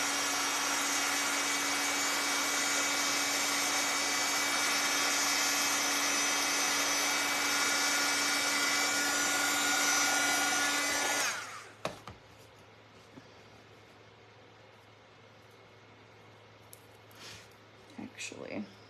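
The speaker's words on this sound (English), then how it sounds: "I might throw my dryer on here a second because I do want to paint my eggs" A handheld dryer blows a loud, steady whir over a gnome craft to dry its paint, running continuously for about eleven seconds before cutting off abruptly, followed by quiet handling noises.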